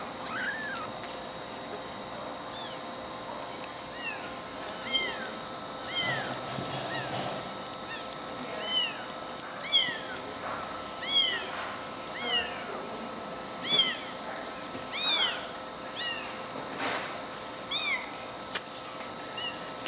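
A transitional kitten meows repeatedly while being fed, a long series of short, high, close cries in irregular rhythm over a quiet steady hum.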